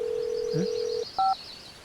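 A telephone gives a steady dial tone, then a short two-note dialing beep follows after a brief pause, close and clear with no voices.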